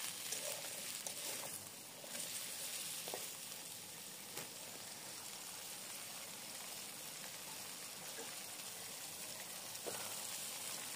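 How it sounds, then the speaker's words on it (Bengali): Potatoes and onions frying together in a pan with salt and turmeric, a steady close sizzle with light stirring scrapes throughout. "এবার সব ভালো মতো একসাথে ভেজে নিতে হবে।"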